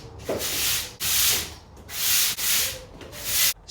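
Broom bristles sweeping a workshop floor in rhythmic scratchy strokes, about six passes, close and fairly loud with brief pauses between strokes.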